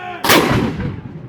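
A ceremonial cannon at The Grand Hotel in Fairhope, Alabama fires one loud, sharp boom, its blast rolling out and decaying into a long rumbling echo.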